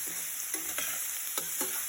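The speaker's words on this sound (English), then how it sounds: "So we have to cook this vegetable for 5 minutes" Chopped zucchini, capsicum and mushroom sizzle in a pan for cheesy pasta, a steady close frying hiss broken by a few quick spatula scrapes.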